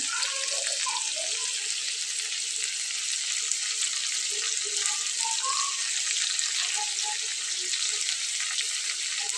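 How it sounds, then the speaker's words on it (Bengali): Parshe fish coated in mustard paste and wrapped in gourd leaves frying in a pan, giving a steady, even sizzle with faint crackles, moderately loud and close. "আরও একটু ভাজা ভাজা করে নেব একদমই কোনো রস থাকবে না"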